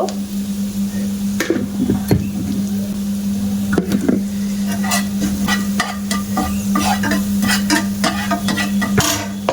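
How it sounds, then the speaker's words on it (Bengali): Chopped ginger and green chilli sizzling in a pan while a spatula stirs and scrapes, close and fairly loud, with a steady hiss broken by scattered clinks and scrapes and no voices over it. "আদা কুচানো আর কাঁচা লঙ্কা কুচানো দিয়ে দেব। দিয়ে একটু হালকা ভাজা ভাজা মতো করে নেব"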